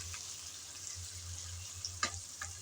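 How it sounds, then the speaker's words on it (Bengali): Broiler chicken curry being stirred while it fries in a pan gives a steady low sizzle, with a few faint spoon scrapes and clinks near the end and no voices. "নেড়ে চেড়ে একটু ভালোভাবে মিশিয়ে নিলাম।"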